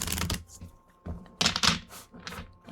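Crisp riffling bursts of tarot cards being shuffled, three quick flurries with short pauses between, close and clear with no talking.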